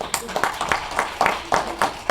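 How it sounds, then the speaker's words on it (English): Audience at a first-time homebuyer seminar clapping, a sparse, uneven patter of individual handclaps from a small nearby crowd, fairly loud and steady through the short burst. "Can we have a round of applause, please?"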